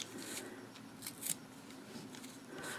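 Cheap dollar store scissors snipping through the wrapped yarn of a pom-pom on a pom-pom maker, a few soft, close crunching cuts with small pauses between them in a quiet room.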